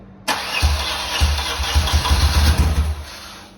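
A BMW R80 R motorcycle, idle for four to five years, is cranked after a silent moment and sputters into rough, uneven firing. The close, loud bursts pulse irregularly for about three seconds before fading.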